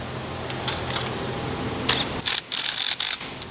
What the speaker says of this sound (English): We are going to use the impact. Just kind of tighten it up.